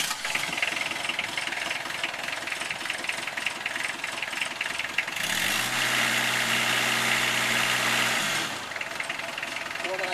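A forklift engine runs steadily with a knocking idle, then revs into a louder, deeper drone for a few seconds as the forks go up and down, before settling back.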